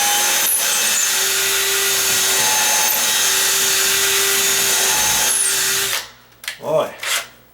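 Power drill driving 3-inch coarse-threaded screws into a wood stud, a loud sustained whine and grinding for about six seconds that stops abruptly, followed by brief rustling and handling noise.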